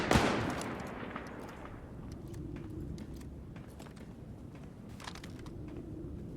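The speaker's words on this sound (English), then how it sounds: "I hate these firefights, because I never know which way to..." Gunfire in a firefight in the video game S.T.A.L.K.E.R. Gamma: a loud sharp shot at the start decays into a steady rumbling bed, with scattered distant cracks and pops continuing throughout.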